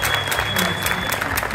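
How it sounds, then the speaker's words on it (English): Applause from a comic convention audience at a Q&A panel, a dense steady clapping from a crowd lasting throughout. "Could we give them a warm round of applause?"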